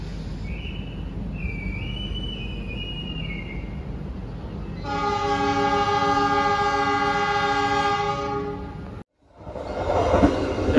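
KA Malabar economy train departing: a steady rumble and a faint whistle, then a long, loud, sustained horn blast nearby, a sudden cutoff, and rumbling noise returning.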